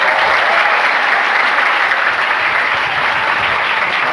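A large audience applauds loudly and continuously at a community gathering with the Sampang regent, the dense clapping holding steady throughout without a break.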